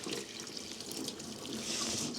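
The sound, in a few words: water running from a kitchen faucet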